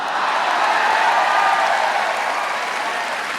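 An audience at a comedy poetry recital breaks into loud, steady applause, a dense clapping roar that holds evenly throughout, with no speech over it.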